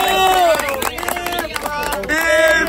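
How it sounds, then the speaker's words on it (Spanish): A crowd at a rap battle final claps and cheers, with loud shouting voices over a steady rattle of applause, close and energetic throughout. "un fuerte aplauso merecido para Enfa Vino"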